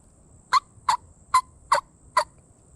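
Five short, sharp clucks from a turkey mouth call, evenly spaced in a steady rhythm, close and clear over near silence.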